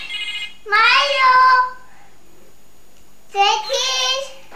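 A toy phone rings in a home, a bright electronic ringtone with stacked harmonic tones heard in two bursts separated by a short pause, fairly loud and close, with a voice nearby.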